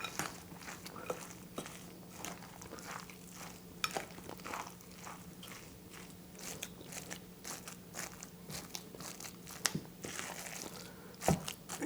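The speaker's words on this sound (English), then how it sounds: "Now it's a time to mix them all together." Potato patty mixture with raisins, parsley and egg being mixed by hand in a bowl, giving soft squelching and irregular crunchy clicks from utensils against the dish, fairly quiet and continuous.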